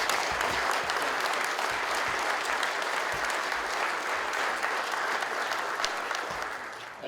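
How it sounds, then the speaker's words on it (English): Sustained audience applause at an awards banquet, a dense, even wash of many hands clapping for the full stretch, tapering slightly at the very end. "Let's give them a round of applause."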